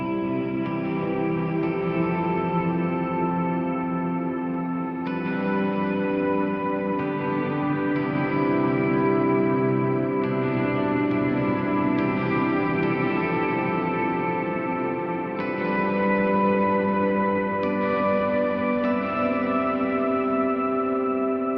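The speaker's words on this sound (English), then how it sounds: "So especially if I use kind of a padded sound like this." An electric guitar with a padded ambient effect rings out open triads for worship music, with slowly swelling, reverb-soaked chords that sustain and blend into one another, smooth and continuous with no talking.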